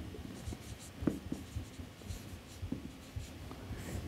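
Pen or marker writing a table by hand during a lecture on solvent extraction and transesterification, with faint scratching strokes and light taps over a soft room hum, no talking.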